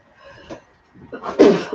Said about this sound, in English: Ooh, I had a little sneeze.